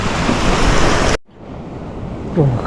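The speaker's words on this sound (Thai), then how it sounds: "คลื่นแรงครับวันนี้" Strong sea waves pounding at a river mouth where people fish, a loud continuous roar of surf and wind that cuts off abruptly, then returns as a softer wash of water with gusts buffeting the microphone.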